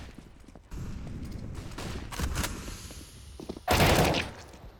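Counter-Strike gunfire during a competitive esports match, a burst of shots followed by a louder, denser volley near the end, with game ambience throughout.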